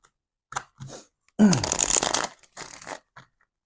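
A deck of tarot cards riffled and shuffled close by, a few short bursts of papery flutter, the loudest lasting about a second.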